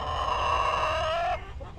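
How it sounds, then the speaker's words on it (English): A barnyard goose honks in one loud, harmonic-rich call lasting over a second, then breaks off into a fainter squawk, heard close with no talking. "And the goose, as usual, won't shut up."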